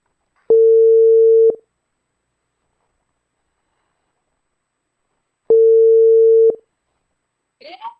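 Two steady, loud tones of a telephone ringback while calling someone, each lasting about a second and separated by a long silence, followed by a brief faint rustle at the end.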